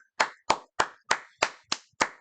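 Seven sharp, evenly spaced hand claps, close and clear with silence between each, from one person reacting to an anime trailer.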